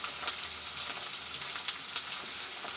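Potatoes and Malabar spinach stems fry in a pan with a steady, close sizzle and a few brief crackles rising above the hiss, and no voices are heard.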